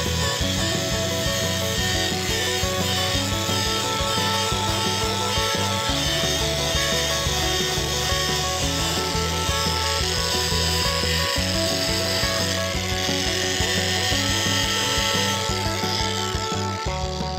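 A grinding wheel scours grease and rust off an old 1889 cookstove with a loud, continuous abrasive whine and steady droning hum that runs throughout, uninterrupted and close.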